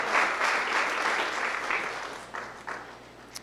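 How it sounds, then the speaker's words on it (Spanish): Congregation clapping loudly during a church service, a dense sustained burst of applause that fades and thins toward the end, ending in a few scattered claps. "Dale palmas fuertes al Señor."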